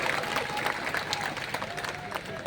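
Crowd at a large protest rally clapping, scattered applause under an amplified speaker's voice in a busy outdoor gathering.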